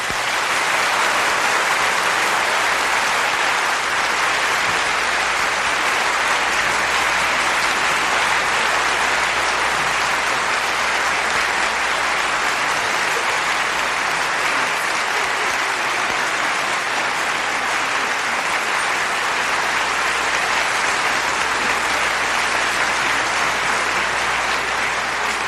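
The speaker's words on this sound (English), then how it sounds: "Maybe I should rip that, make my own applause drop, and then annoy you with it." Dense, sustained applause from a large audience after an orchestral performance, a continuous roar of clapping that stays loud and steady throughout without pauses.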